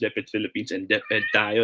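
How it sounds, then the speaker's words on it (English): A cat meowing close by during a live online broadcast while a person speaks steadily; the meow is tangled in the talk, a drawn-out cry rising near the end. "sorry. Pardon my cat."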